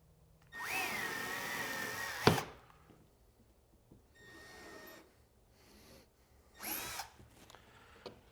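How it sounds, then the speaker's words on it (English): A power drill whirs loudly for about two seconds, pre-drilling through a wooden French cleat on a wall, then two shorter bursts follow after quiet pauses, with faint clatter between. "When I pre-drill this, I only want to go through the cleat."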